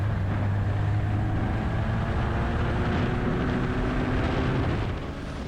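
A queue of about thirty Formula Ford race cars idles while lining up to enter the Mettet circuit, a steady low engine drone with a constant hum and no speech.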